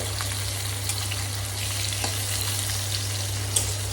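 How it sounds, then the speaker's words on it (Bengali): Fish frying in a pan gives off a steady close sizzle over a constant low hum, with faint crackles and a sharper pop near the end. "এদিকে দেখুন মাছটাও সুন্দর লাল লাল করে একটু ভাজা হয়ে গেল।"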